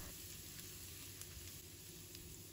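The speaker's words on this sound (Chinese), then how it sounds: "倒入适量的食用油，把油烧热，先放入姜丝，把它炒香炒软" Fresh ginger strips sizzling in hot oil in a wok, a steady, even frying hiss with faint stirring scrapes, continuous and fairly quiet.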